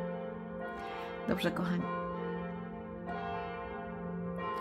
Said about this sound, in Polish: Jak zaczynają dzwonić, mieszkam tuż pod kościołem, jak zaczynają dzwonić, to po prostu aż wszędzie ciarki są.